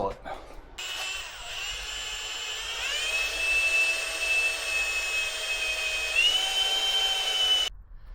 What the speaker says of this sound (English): And we're going to drill it.